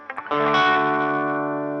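An electric guitar with reverb plays the whale motif from a song: a few picked notes swell into one sustained, shimmering chord that rings out with a long reverberant tail, played alone.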